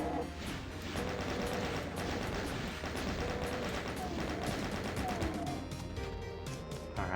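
Rocket blasts and gunfire from the shooter game Cheesewheel form a dense, continuous barrage of explosions and rapid shots, loud and unbroken throughout with no pauses.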